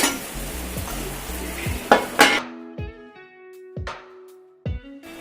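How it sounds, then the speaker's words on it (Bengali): Dried fish chutney with onions stirred in a pan, the spoon scraping and clinking against the metal a few times after a short stretch of sizzling, close up with no talking. "মাছটা দিয়ে এই যে নাড়াচাড়া দিয়ে নামাচ্ছি"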